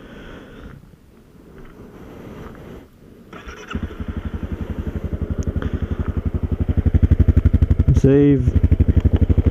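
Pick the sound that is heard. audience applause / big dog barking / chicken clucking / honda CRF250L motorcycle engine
honda CRF250L motorcycle engine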